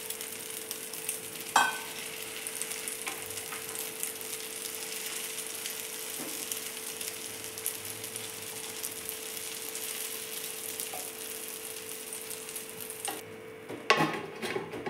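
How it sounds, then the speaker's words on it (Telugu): An egg and potato omelette mixture sizzles steadily in a pan over a low flame, a continuous close frying hiss with a few clinks of a utensil against the pan. "మిక్స్ చేసుకున్న ఎగ్ పొటాటో మిశ్రమాన్ని దీంట్లో పోసేస్తున్నాను"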